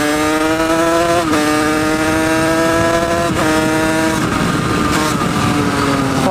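A motorcycle engine fitted with a KRM cooler and a 2win high-flow water pump runs loud and close, holding a steady buzzing drone with a few quick throttle blips and dips along the way.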